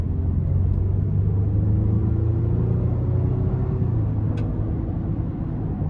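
A 2024 Honda Pilot TrailSport's 3.5-liter V6 with a 10-speed transmission, pulling in sport mode, gives a steady, loud low rumble heard from inside the cabin, its engine note rising gradually with no speech.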